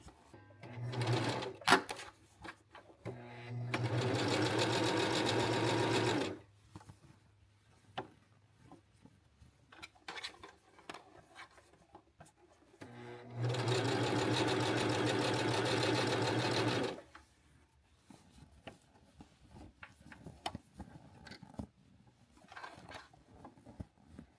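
A home sewing machine understitching a lining seam allowance runs in two steady, close bursts of a few seconds each, with quiet handling and fabric rustle between them.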